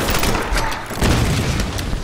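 Booming gunfire in the video game Tomb Raider, dense and loud, with heavy rumbling blasts running continuously through the short burst.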